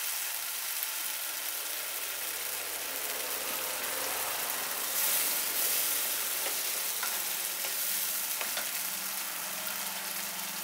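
Bengali-style egg paturi cooks in a frying pan after about a cup of water goes in, giving a steady, bright sizzle and bubbling that stays loud and even, with a few soft stirring clicks.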